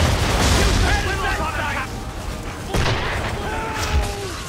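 Ship cannons fire in an Assassin's Creed 3 naval battle, heavy booms rolling under shouted orders and game voices, with a second blast landing near the end.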